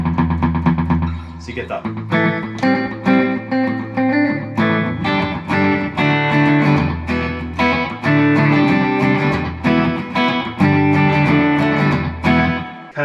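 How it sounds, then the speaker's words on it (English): Electric guitar played through a Boss DD3T digital delay pedal set to a short slapback, loud strummed and picked chords with quick echoes trailing each attack; someone speaks briefly. "I always like to have a little bit of slap back delay. So using the digital delay,"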